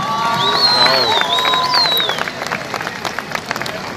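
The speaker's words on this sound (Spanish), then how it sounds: "Un aplauso para Carlitos que está escuchándome" A concert audience at a tribute performance applauds and cheers loudly, with whistles and shouts over steady clapping that gradually thins out.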